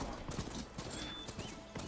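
Rhythmic clip-clop of horse hooves trotting steadily in Horizon Forbidden West, fairly close, with a brief whinny-like tone and game ambience underneath.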